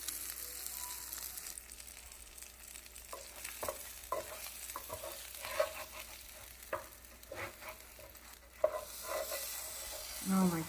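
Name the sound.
shrimp tacos frying crispy in a pan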